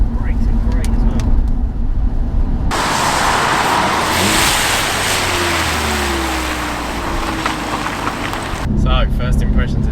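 A 407 bhp Audi S3 saloon drives on the road with a loud sustained engine roar and road noise, passing in the middle while people talk before and after.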